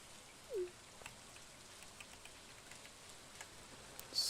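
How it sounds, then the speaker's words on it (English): Rain in the video game Stardew Valley patters faintly and steadily, a soft wash of droplets with a few small ticks and a brief brighter blip near the end. "Stand out in the rain."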